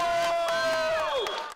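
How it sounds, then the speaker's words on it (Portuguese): Fans at a youth footvolley tournament cheer and shout in a loud, close crowd, with high whoops and sustained voices rising over scattered claps for a brief burst. "E além da animação dos jogadores, a torcida também marcou presença."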